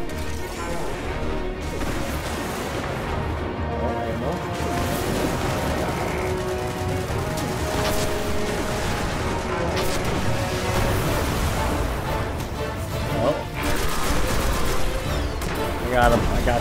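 Dense, continuous shooting at enemies in Destiny, with layered gunfire, impacts and crashing bursts, loud and close throughout, with a person talking over it.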